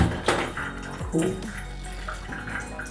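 Tap water runs steadily while bleached dreadlocks are rinsed, a continuous close splashing wash with brief shifts in flow and no talking.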